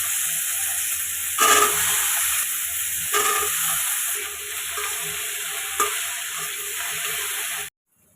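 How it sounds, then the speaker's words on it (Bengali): Okra fries in hot mustard oil with a loud, steady close sizzle and hiss, with a few louder bursts as it is stirred, then it stops abruptly at the end. "তেল দিয়ে ভাজি করতেছি"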